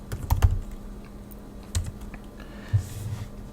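Computer keyboard typing of the ssh-keygen command while setting up SSH keys on Debian, a few brief bursts of close, soft key clicks separated by pauses, with no voices.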